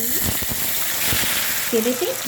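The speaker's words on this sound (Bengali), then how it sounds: "টমেটো আর পেঁয়াজের পেস্টটা আগে আমি একটু ভাজা করে নেব।" Tomato and onion paste frying in hot oil, a continuous close sizzle with a few brief stirring scrapes and a voice speaking faintly over it.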